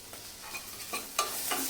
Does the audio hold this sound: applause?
no